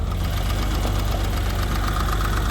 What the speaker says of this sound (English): Got the normal little valve tick, which is very common on these.